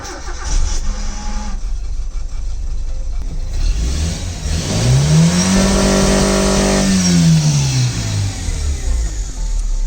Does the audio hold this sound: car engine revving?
yes